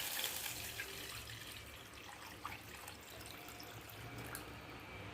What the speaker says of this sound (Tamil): இப்போ நம்ம வச்சுருக்க மோர் குழம்பை இதில் ஆட் பண்ணிக்கலாம்